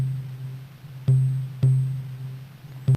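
An 8-bit organ sample sequenced on an Amiga 500 at tempo 125 plays as a low droning tone punctuated by three sharp retriggered note attacks at uneven intervals, clear and alone.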